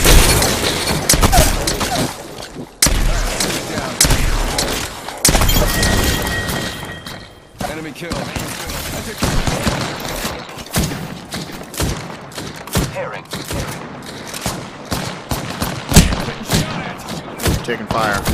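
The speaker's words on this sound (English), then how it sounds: "Taking fire." Rapid bursts of gunfire in the battle royale game Apex Legends crack continuously and loudly, with dense overlapping shots, impacts and brief pauses, while voice lines speak over the action.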